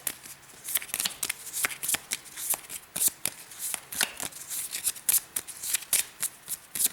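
A deck of cards for a solo wargame turn is riffled and shuffled repeatedly, producing crisp rapid flutters in uneven bursts, close and fairly loud, with no voices.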